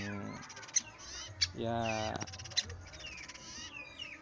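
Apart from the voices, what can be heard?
woodpecker chicks, male and female, calling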